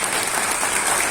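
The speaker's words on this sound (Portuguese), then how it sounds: "Vamos aplaudir o Senhor na vida dela?" Church congregation applauding together, a dense, steady wash of clapping from a crowd filling the whole short moment with no voices over it.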